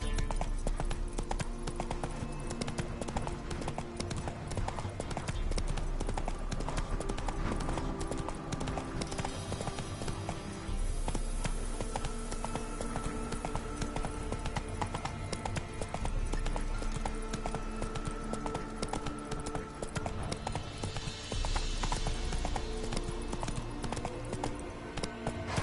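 The horse Roach gallops in The Witcher 3, with a steady, continuous drumming of hooves that runs throughout, joined by game ambience and music and no talking.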